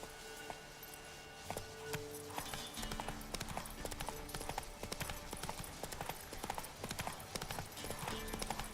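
Roach, a horse in the Witcher 3 video game, clip-clops along with a steady rhythm of hoofbeats over low ambient game music, a brief voice heard faintly.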